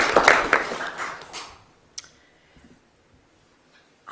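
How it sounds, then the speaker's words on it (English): Applause at a council meeting, a burst of clapping hands that fades out over about a second and a half, followed by a few scattered claps and near silence. "We also give them a round of applause."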